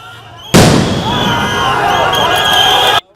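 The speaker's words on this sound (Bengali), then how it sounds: "পরীক্ষার্থীদের উপর জলকামান ও সাউন্ড গ্রেনেড নিক্ষেপ করে পুলিশ" Police sound grenade blast against student examinees at a protest in Dhaka's Shahbag area: a sudden loud burst, then a sustained harsh roar of noise that holds for over two seconds before cutting off.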